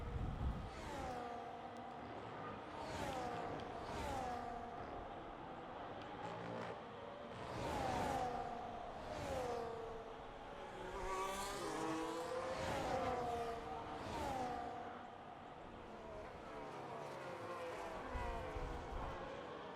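Race cars in a racing video game sweep through the final corners at Barcelona, engines whining up and down in pitch as several cars pass in turn, loud and continuous, with no talk.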